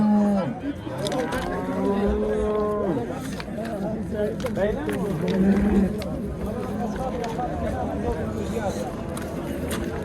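A cow moos loudly and repeatedly close by at a Friday livestock market in Pastdargom, Samarkand, long drawn-out calls with a person talking over and between them.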